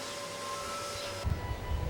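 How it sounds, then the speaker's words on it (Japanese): Vacuum cleaner running over a fabric sofa, a steady broadband hiss with a whine, turning rougher and more rumbling as the nozzle moves across the cloth, close and continuous. "まず全体にしっかりと掃除機をかけます。"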